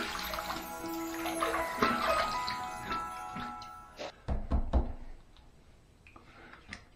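Water splashes and trickles as a razor is rinsed between shaving passes, a close, irregular run of wet sounds that ends in several short, sharp splashes before the sound thins out, with no talk.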